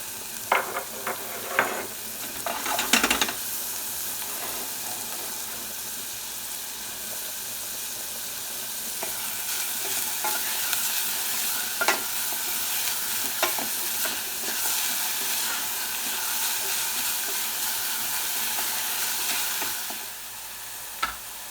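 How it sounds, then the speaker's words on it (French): Chopped onion sweats in a little oil in a pan as the base for a charcutière sauce, a continuous soft sizzle with stirring scrapes and a few louder clanks near the start, close and without voices. "On va faire suer l'oignon."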